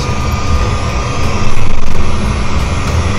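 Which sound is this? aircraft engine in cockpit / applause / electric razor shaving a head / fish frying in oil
aircraft engine in cockpit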